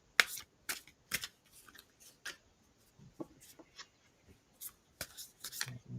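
A deck of cards is shuffled by hand in a quiet room, giving a series of short, crisp riffling and snapping bursts at irregular intervals, close and fairly soft, with no talking.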